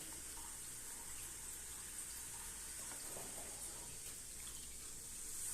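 Cola pours steadily over chicken wings in a container, a soft continuous trickle and fizz heard close up with no talking.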